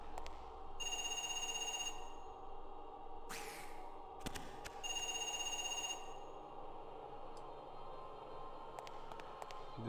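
A telephone rings in the video game Parasite Eve II, with two separate trilling bursts over a low, steady ambient hum and a few faint clicks.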